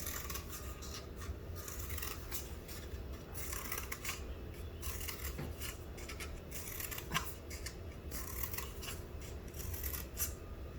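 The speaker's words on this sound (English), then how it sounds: "you're going to practice your scissor cutting skills, and you're just going to cut slits in it" Soft, repeated snipping and scraping of scissors cutting slits in a cardboard tube, quiet and close with an irregular rhythm of small cuts.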